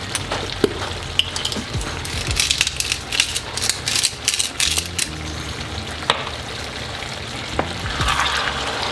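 Sliced potatoes sizzling and crackling in oil in a pan for a Spanish tortilla de patata, a constant close frying hiss broken by scraping and clacking as a utensil stirs and turns them.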